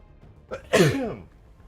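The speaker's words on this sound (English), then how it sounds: "that was an aggressive sneeze" A single sharp sneeze up close during Halo 3 gameplay, a short inhaling build-up followed by a forceful burst that trails off quickly.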